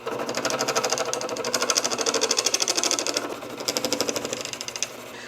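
A rotary tool runs at low RPM against crayon wax being shaped into a fishing lure, giving a close, rapid, buzzing chatter that pulses evenly and dips briefly midway before picking up again.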